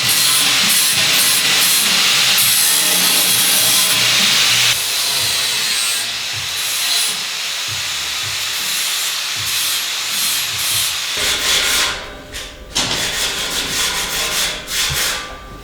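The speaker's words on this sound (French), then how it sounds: "beaucoup d'heures passées à poncer" Steady abrasive rubbing and sanding on parts of a homemade space station model, a dense continuous scraping hiss with shifts in texture partway through and a brief pause near the end, no talking.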